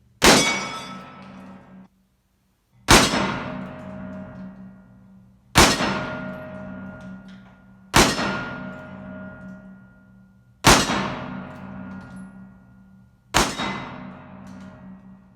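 Six loud Remington cap and ball revolver shots, each a sharp crack followed by a ringing metallic clang from the bullet striking a steel target, spaced about every two and a half seconds with decaying ring between.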